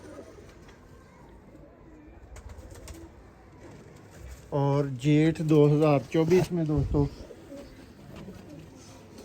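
Prized breeder pigeons in a Sialkot home loft give a loud burst of rolling coos about midway, after quiet ambient noise, with someone talking around it.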